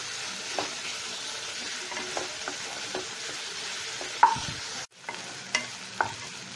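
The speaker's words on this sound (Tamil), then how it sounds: "பச்சை மிளகாவை வந்து நீள வாக்கில் கட் பண்ணி போட்டுக்கிறேன்" Green chillies slit lengthwise fry in oil in a pan for a chicken stew, giving a steady close sizzle with scattered scrapes and clicks of a spoon stirring, and a brief louder clatter near the end.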